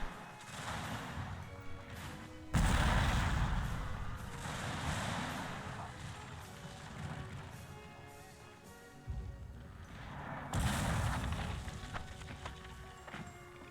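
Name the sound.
artillery and musket fire, Shogun 2 video game battle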